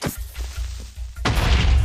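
A creeper exploding in the Minecraft video game, a sudden loud blast after a few dull thumps, followed by a broad rumbling crash that fills the end.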